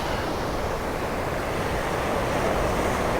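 Ocean swells surge over coastal rocks in a steady, loud wash of surf, a continuous roar with no separate breaks and some wind rumble.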